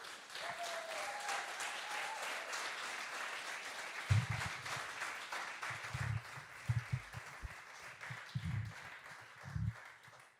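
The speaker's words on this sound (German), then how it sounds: "einen großen Applaus für Nora Lotz" Steady applause fills a hall at a live music contest finale for performer Nora Lotz, broad and continuous, with a low rhythmic thumping joining in partway through.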